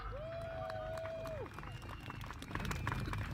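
Outdoor crowd applause for British commandos at a 1940s battle re-enactment in Crowle, scattered clapping and cheering building toward the end, with a whistle-like tone early and a voice nearby.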